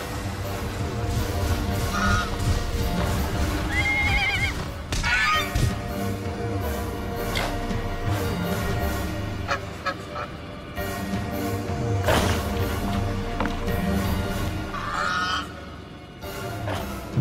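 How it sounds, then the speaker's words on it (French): Diatryma, a two-metre carnivorous prehistoric bird, gives loud honking, goose-like calls that repeat at intervals over a dense, continuous background. "une proie facile pour un oiseau carnivore de 2 mètres de haut"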